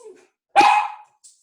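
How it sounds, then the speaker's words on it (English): One loud, close dog bark, a single sharp woof standing alone with only a faint voice and a tiny yip around it. "grateful for the barking dog"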